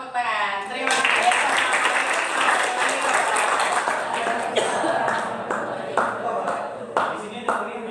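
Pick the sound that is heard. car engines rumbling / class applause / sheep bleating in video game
class applause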